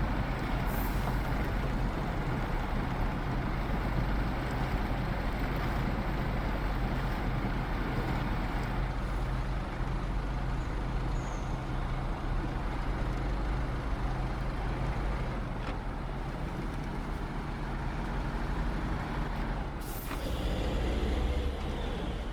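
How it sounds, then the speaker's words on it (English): Diesel engine of a GWC TUZ 3308 Gorky truck in SnowRunner, a steady low rumble running throughout with a brief hiss like an air brake near the end, no talking. "I love the engine sounds on this truck."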